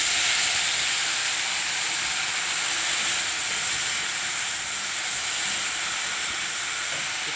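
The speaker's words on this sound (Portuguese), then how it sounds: "E aí depois agora aqui, ó, eu vou colocar água nele." Water poured into rice frying in a pan, a loud, steady hiss of steam and sizzling that holds evenly throughout, close and alone with no talking.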